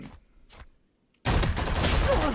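Dense, loud burst of rapid gunfire in a shooting video game, breaking in suddenly after two faint short pops and near silence, then continuing as sustained fire to the end.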